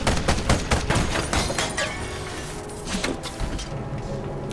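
Cannon shots in the mech combat game Ironcast: a rapid burst of sharp impacts in the first two seconds gives way to a sustained dense rumble of battle noise, loud and with no voices.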